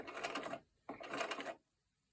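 A home sewing machine runs two short bursts of a few stitches each, a brief pause between them, close and fairly quiet with no talking.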